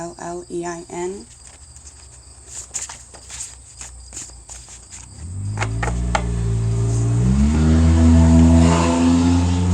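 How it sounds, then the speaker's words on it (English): Footsteps and faint chirping give way to a car approaching and roaring past loudly, its engine noise swelling and lingering near the end. "That car was definitely loud."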